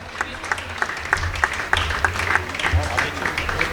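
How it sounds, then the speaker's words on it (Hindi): Audience applause at a Jain monk's welcome sermon in Kharadi, Pune: a crowd claps in a loose, fairly even rhythm of sharp claps over a steady murmur of voices. "और आप लोग तालियां बहुत अच्छी बजाएंगे।"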